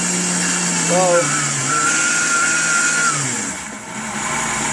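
A blender grinds dried garden celery into powder with a loud continuous whir whose pitch rises and shifts as it speeds up, with a person talking over it.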